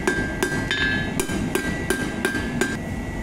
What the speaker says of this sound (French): maintenant nous allons venir taper sur les angles.